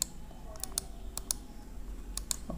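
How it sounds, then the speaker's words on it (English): Quick, light plastic clicks from a computer mouse button, several sharp taps spaced through a quiet room, close and soft, with no voices. "Simply click, simply press the left click."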